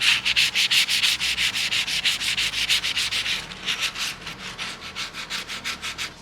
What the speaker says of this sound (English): We're just gonna scuff it up with some 600 grit sandpaper.